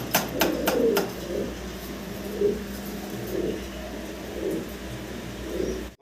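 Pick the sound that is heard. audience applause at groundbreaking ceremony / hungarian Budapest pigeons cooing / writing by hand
hungarian Budapest pigeons cooing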